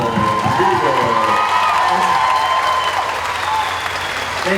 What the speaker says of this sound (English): Ladies and gentlemen, round of applause for Norman and Reedus.